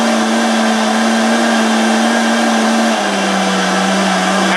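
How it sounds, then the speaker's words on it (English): A DynaPro 2.5 HP commercial vacuum blender blending marshmallows, with a loud steady motor whine that drops in pitch partway through as the speed changes, continuous and close with no talk. "As you guys can hear, it's varying the speeds of the blender to get a complete and full blend every single time."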